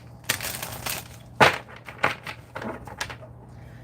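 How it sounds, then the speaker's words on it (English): A deck of oracle cards is shuffled by hand, producing several quick papery riffles and slaps in an irregular rhythm, close and fairly loud, with a brief word spoken. "I just shuffled that and that card was on the bottom when I first started shuffling."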